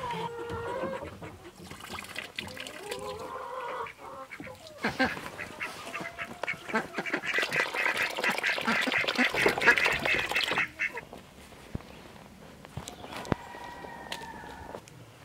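Ducks kept on a small homestead quack repeatedly at close range, a busy chorus of overlapping calls with goose-like honks, loudest in the middle stretch and continuing to the end.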